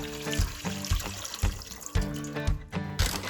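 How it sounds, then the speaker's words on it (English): Two cups of chicken broth poured into a pot on a stove over medium heat, a close watery splashing gush with gurgling pulses. "Now we pour in our 2 cups of chicken broth."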